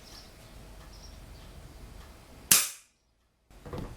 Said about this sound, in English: I'll take a shot with nothing in it for you guys